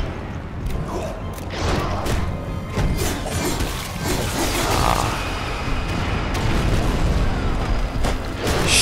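Devastator attack in the video game Prototype: a loud, dense burst of booming explosions, crashing and shattering debris that rolls on for several seconds with repeated impacts.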